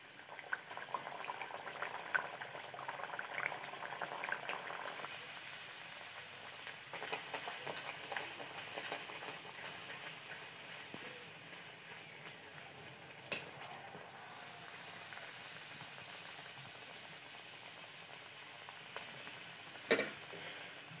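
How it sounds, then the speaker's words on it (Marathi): Spinach puri deep-frying in hot oil, a faint, steady bubbling hiss that holds evenly throughout with occasional small pops and clinks, no voices. "आता तेल आपलं तापलेलं आहे, आता ही पुरी आपण ह्या तेलामध्ये टाकून घ्यायची"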